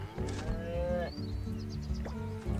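Cattle mooing in the mobile farming game TownTale, two drawn-out synthetic moos in a row, clear and close over a faint game backdrop, with no talking.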